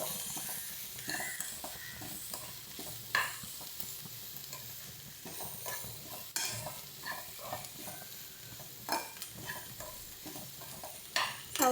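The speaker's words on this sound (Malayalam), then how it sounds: "അത് ഒന്ന് മിക്സ് ചെയ്ത് ഇളക്കി കൊടുക്കാം." Sliced onions and ginger frying in a pan while being stirred, a steady soft sizzle broken by repeated scraping strokes of the spoon, close and without talk.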